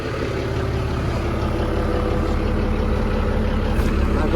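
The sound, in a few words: Volvo TAMD marine diesel engine running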